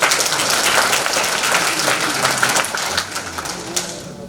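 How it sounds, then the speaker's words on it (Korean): Audience applause at a rally for defending liberal democracy in South Korea, a dense, steady wash of many hands clapping that stays loud for several seconds before thinning slightly toward the end, with no talk over it. "그래서 박수부터 합니다."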